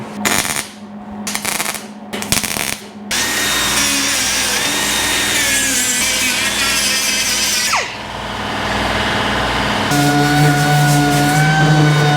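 An angle grinder grinding down tack welds on rust-repair patches in the cab of a 1953 GMC truck, with loud continuous metal-grinding whine that starts in short bursts and then runs steadily, close up and with no talk.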